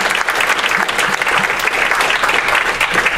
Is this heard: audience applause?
yes